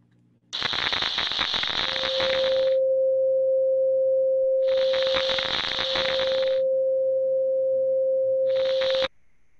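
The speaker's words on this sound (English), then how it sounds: "that was just recordings of the electricity running through the wood" Electricity arcing through burning wood, a harsh hissing crackle heard in three long bursts with a steady electrical hum running beneath and continuing between them, loud and close with no voices.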